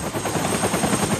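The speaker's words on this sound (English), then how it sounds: "The whoomp of a Huey helicopter." Rapid rhythmic thumping of Huey helicopter rotor blades, steady and fairly close, with a whining turbine tone running underneath.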